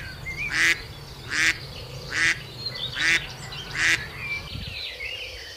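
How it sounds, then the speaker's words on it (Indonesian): A white duck quacks five times in an even, regular rhythm, loud and close, each call a short nasal burst separated by brief pauses over low background noise. "Ini bebek teman-teman."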